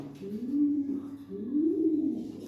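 Military and Homer pigeons coo in two low, rolling phrases, close and clear, with a soft background murmur and no talk over them.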